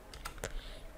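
Soft keystrokes on a computer keyboard, three or four quick, faint taps in under a second with a quiet background.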